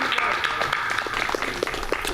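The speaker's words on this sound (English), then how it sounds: "round of applause to Tom Wojnacki on piano" A room audience gives a short burst of applause for a piano player at a showcase event, steady clapping heard under someone talking.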